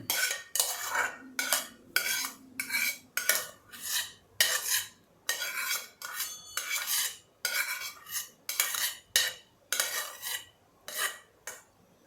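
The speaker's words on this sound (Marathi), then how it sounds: "हा आता मी कुकरमधला भात सगळा काढून घेते" Cooked rice scooped out of a pressure cooker with a metal spoon, a long series of rhythmic, close scraping and clinking strokes against the metal pot, each followed by a brief pause.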